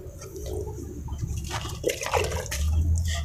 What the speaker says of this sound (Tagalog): Nagre-refill lang po tayo ng tubig.